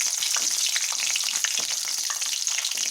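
Onions fry in hot sesame oil in a kadai, giving a steady, close, dense sizzle with small crackles and light stirring scrapes throughout, and no talking.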